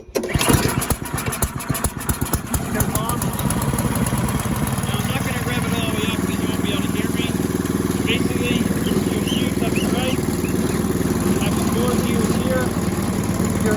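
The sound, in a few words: Ariens 11528 snow thrower engine starting and running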